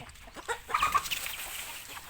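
Chickens cluck in a busy, overlapping flurry of short calls, fairly close, with a soft outdoor background and no talking.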